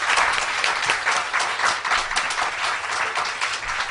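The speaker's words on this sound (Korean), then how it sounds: "박수 한번 주세요" An audience applauds in a studio after a presentation, steady dense clapping from many hands holding at an even level for a few seconds.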